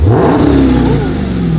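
A stock-exhaust supercharged Dodge Demon 170 engine revs up in one short, loud, close burst, the pitch climbing and then holding as the rev settles.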